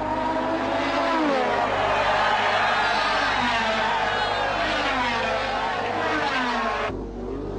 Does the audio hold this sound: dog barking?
no